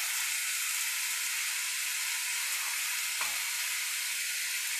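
Eggplant and mixed vegetables frying in a pan produce a constant, even sizzle, close and steady, with a single light clink of a utensil partway through.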